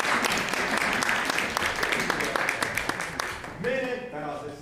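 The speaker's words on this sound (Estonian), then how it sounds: "Me teeme sulle suure aplausi." An audience at a family concert gives warm applause, a dense patter of clapping that fades toward the end as a voice starts speaking.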